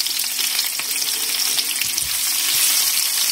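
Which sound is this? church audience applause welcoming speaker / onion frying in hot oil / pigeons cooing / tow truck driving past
onion frying in hot oil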